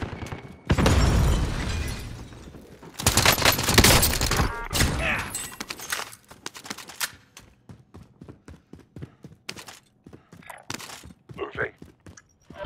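A frag grenade bursts and gunfire crackles in a Call of Duty: Modern Warfare Control match: two heavy loud blasts, then scattered sharp shots and impacts trailing off, with brief game voice callouts.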